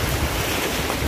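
Ocean surf rolls steadily onto Cabongaoan White Beach in Pangasinan, a close, continuous broadband wash of breaking waves with some wind buffeting the microphone and no speech.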